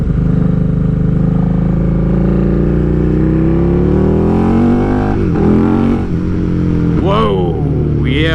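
A loud motorcycle on a test drive, with a touchy throttle, roars close by as its engine revs climb and dip in repeated surges across several seconds.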